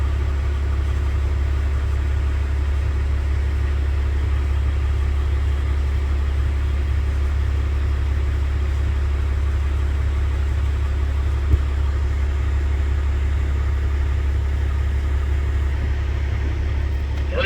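A 1971 Chevrolet C20 truck engine idles after a cold start, a steady low rumble running close and unbroken throughout, with one brief click partway through.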